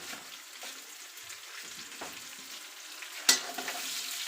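Long-sliced onion for aloo gobi fries in a pan with a soft, even sizzle, a few light stirring scrapes, and one sharp clank near the end; no one speaks.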